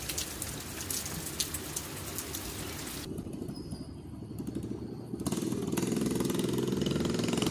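Steady rain falls at night outdoors near a minibike, a dense close patter on surfaces with a brief quieter gap midway before the downpour swells louder toward the end; nobody speaks.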